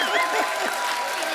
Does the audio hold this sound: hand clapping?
yes